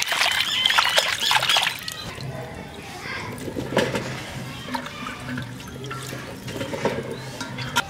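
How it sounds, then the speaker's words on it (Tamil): Water splashes and swishes close by as cauliflower is rinsed by hand, with trickling and dripping between bursts and a voice faintly in the background. "பச்சை தண்ணியில் போட்டு நல்லா அலசி எடுத்துடலாம்"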